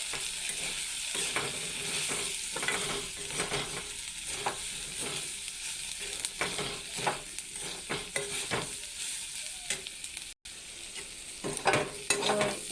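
Eggplant and potato with turmeric are stir-fried in a pan, giving a steady soft sizzle broken by repeated scraping stirs of a spatula, close and fairly quiet, with no talking.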